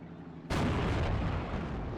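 A Panzer IV tank gun fires at an M7 in the WWII strategy game Steel Division: Normandy 44. A single sudden, heavy blast is followed by a long, rumbling decay.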